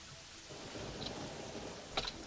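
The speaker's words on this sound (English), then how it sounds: "Let's see if we can hide from the thunder and lightning." Rain and thunder in a Terraria storm hiss faintly and steadily, with a brief crackle near the end and no voices.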